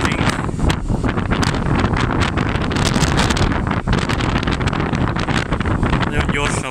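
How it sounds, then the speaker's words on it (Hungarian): Strong wind buffets the microphone aboard a fast Color Line ferry sailing from Kristiansand to Denmark, a loud continuous roar of rushing air and water from start to finish, with a voice faintly present beneath. "Nagyon gyorsan megy ez a hajó."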